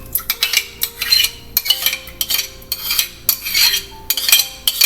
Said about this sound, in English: So I am going to put half a cup of the yogurt into the blender.